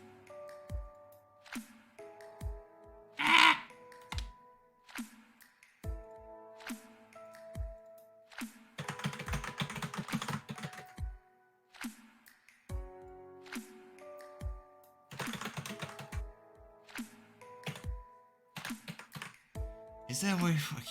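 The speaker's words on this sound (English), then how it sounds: "I could just slam my fingers on my keyboard" Rapid bursts of fingers hammering a computer keyboard during a livestream, arriving as dense clusters of clicky keystrokes separated by short pauses, with a talking voice and other sounds mixed in.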